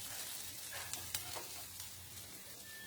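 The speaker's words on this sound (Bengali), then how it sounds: "মশলা একটা দিকে ভাজা ভাজাও হয়ে গেছে, সুন্দর গন্ধও বেরোচ্ছে।" Spices fry in a pan for a mixed vegetable paneer dish, giving a quiet, steady sizzle with scattered small crackles and a few light stirring clicks, no voices.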